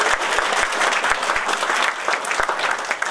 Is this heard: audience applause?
yes